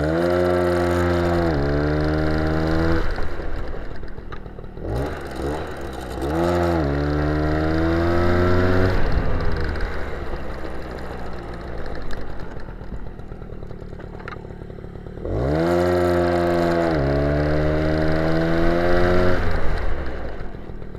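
A 1991 MBK 51 moped engine revs repeatedly during a clutch test, each burst climbing sharply in pitch then falling back to a buzzing idle, loud and close with no talking.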